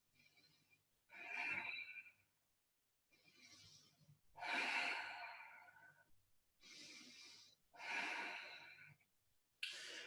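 Slow, deep breathing during a yoga shoulder stretch, soft airy inhales and exhales in about five long breaths separated by quiet pauses, close and gentle.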